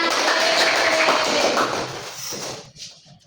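Classroom applause for a student, dense clapping from many children filling the room and then thinning out and fading to scattered claps near the end.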